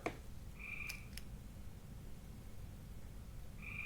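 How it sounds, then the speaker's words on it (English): A frog gives short high chirps, a few spaced seconds apart, faint against steady hiss of night air. "You guys hear that frog chirping?"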